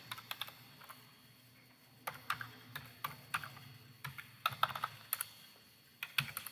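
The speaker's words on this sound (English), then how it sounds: "we'll type in Susan's information." Typing on a computer keyboard, clear close key clicks in irregular bursts with short pauses between them, quiet room and no speech.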